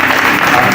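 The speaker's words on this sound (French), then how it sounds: "Acclamez très fort." A worship congregation bursts into loud, dense clapping at a Sunday church service, a brief sustained burst of many hands with no pause.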